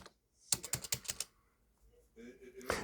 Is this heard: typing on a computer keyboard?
yes